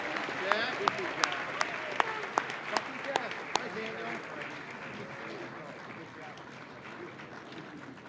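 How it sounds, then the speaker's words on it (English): Applause at a youth awards ceremony, a crowd clapping steadily with sharp individual claps standing out early, then gradually thinning and fading under a murmur of voices. "Let's give them another round of applause."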